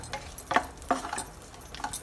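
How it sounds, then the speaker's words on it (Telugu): Wheat rava is stirred while it dry-roasts in a pan for prasadam, giving soft scraping strokes and a couple of distinct clinks from the spoon against the pan over a faint background crackle. "ఈ గోధుమ రవ్వని వేయించుకోవాలి"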